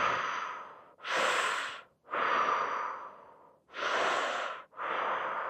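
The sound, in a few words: breathing in through the mouth and out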